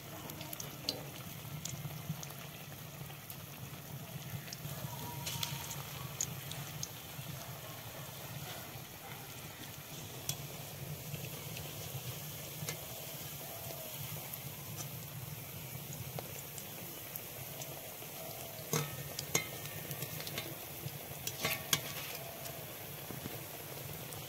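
Radish pakoras fry gently in oil over medium-low heat, making a steady soft sizzle with a few sharper crackles toward the end and no talking.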